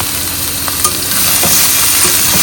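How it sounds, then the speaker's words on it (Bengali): Vegetables tipped into hot oil seasoned with radhuni and kalo jeere in a kadai give a loud, steady sizzle that swells after the pour, with faint stirring scrapes and no talk. "কড়াইয়ের মধ্যে একটুখানি তেল দিয়ে ফ্রেন্ডস রাঁধুনি আর কালো জিরে দিলাম, এরপরে সমস্ত সবজি ঢেলে দিচ্ছি"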